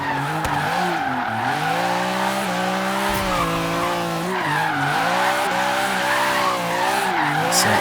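BMW M3 E36 drift build sliding sideways in Forza Horizon 3, with a steady, continuous tire squeal and skid over a wavering engine drone throughout, loud and close with no talk.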